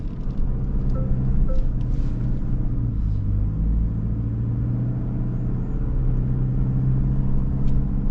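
A Toyota off-road vehicle drives in mud mode, giving a close, steady low engine rumble with faint wind buffeting on the microphone.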